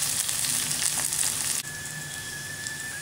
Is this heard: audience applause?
no